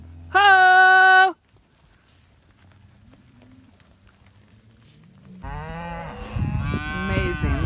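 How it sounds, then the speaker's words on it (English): A loud, close cow moo from cattle on a Montana/Wyoming cattle drive, followed by a quiet stretch and then more layered mooing from the herd. "Look at all the cows trailing out."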